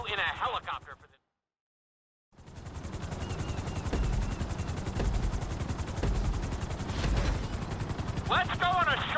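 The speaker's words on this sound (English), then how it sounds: "we're gonna put you in a helicopter for this" GTA helicopter with a steady, loud rotor and engine drone that runs for most of the stretch after a brief silent gap, with short bursts of game effects at the start and end.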